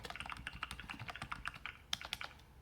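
Rapid, steady typing on a Redragon S107 keyboard with a quiet, muted mechanical feel: dense clicks and taps in quick succession during a typing test, close to the microphone, with no talking.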